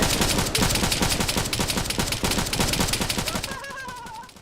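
Video-game gunfire rattles off in a dense, rapid automatic burst, loud and close, with a continuous stream of shots that thins out toward the end as a faint high tone comes in.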